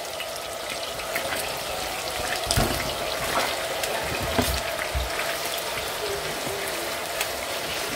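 Pieces of lamb shoulder sizzle in a very large pot for an Algerian couscous royal, giving a steady, close crackling and spitting hiss with a few louder pops scattered throughout.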